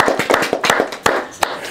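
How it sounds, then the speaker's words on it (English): A small group at a youth program session claps sparsely: a short burst of separate, uneven hand claps, close and fairly loud, with no voices. "let's give Ms. Team a round of applause for going through the book with you."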